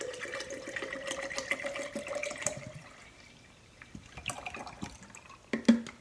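Water is poured into a half-liter bottle already holding organic honey, a gurgling fill that rises in pitch for a few seconds before the stream stops, followed by a few small knocks and splashes.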